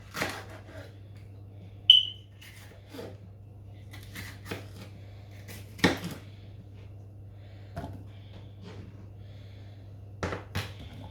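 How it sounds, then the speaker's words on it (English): A knife chops seeded bell peppers on a cutting board while preparing jollof rice, sparse irregular taps sounding close but quiet in a hushed kitchen, with one brief high beep early on. "I'm just chopping it up to put it in the blender."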